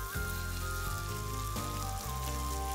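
Goat or beef meat braising in a pan, a steady, fairly loud sizzling hiss that runs throughout with brief dips, layered under a tonal musical background.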